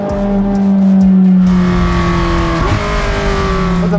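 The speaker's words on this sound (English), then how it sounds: "First up, the epic McLaren 600 LT." A McLaren 600 LT supercar engine revving loudly and close, a rising and falling mechanical roar with sustained harmonic tones and a sharp shift partway through, heard alone.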